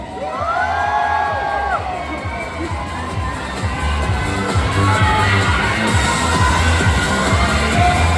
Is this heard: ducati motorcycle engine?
no